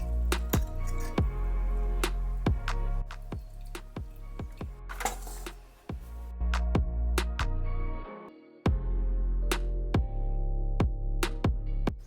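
Cooked spaghetti being drained through a strainer in a home kitchen, with a steady rush of water and repeated sharp metallic clinks and knocks of a pot against the strainer, close and fairly loud, no talking.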